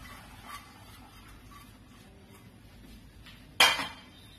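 Boiled pasta and sautéed vegetables being stirred into melted cheese white sauce in a pan, with one clear clatter of a utensil against the pan after quiet kitchen background.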